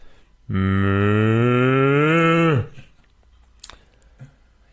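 One long, loud cow moo rises and holds for about two seconds near the school grounds, then fades into quiet with faint rustling.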